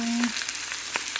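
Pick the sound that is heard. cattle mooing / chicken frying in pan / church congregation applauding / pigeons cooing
chicken frying in pan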